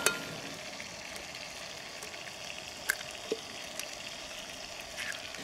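Chicken wings frying in oil in a pan, a steady close crackling sizzle with a few sharper pops and spits, no voices.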